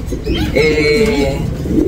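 A pigeon coos close by in a couple of soft, low, throaty phrases over background noise, with a faint voice near the end.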